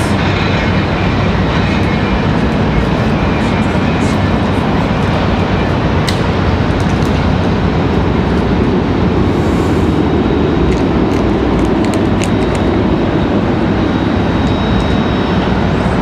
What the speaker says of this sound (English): All right, so Frontier up next. Going to be our next departure.